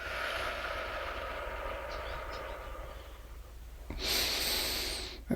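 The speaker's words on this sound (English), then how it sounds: "Breathing out through the mouth." A single slow, airy exhale through the mouth during a guided body-focused contemplation, rising out of a steady low background hum for about a second and a half near the end.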